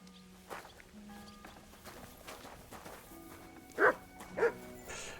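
A dog barks twice in Kingdom Come: Deliverance, two short, fairly loud yelps in quick succession near the end, preceded by faint hoof clops, soft footsteps and quiet game background tones.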